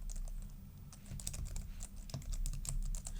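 Code is typed on a computer keyboard in quick, irregular runs of soft, close key clicks that build to denser bursts near the end, with no voices.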